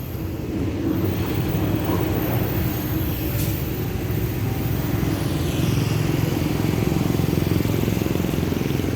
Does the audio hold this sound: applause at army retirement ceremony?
no